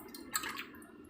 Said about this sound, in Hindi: मैंने ये गर्म पानी लिया, ये देखिए ये गर्म पानी लिया, और इसके ऊपर आराम से हम थोड़ा थोड़ा ऐसे गिराते जाएंगे